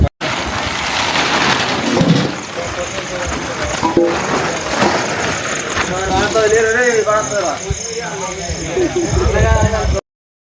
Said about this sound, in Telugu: ఇక్కడికి వచ్చిన తర్వాత వర్షం స్టార్ట్ అయింది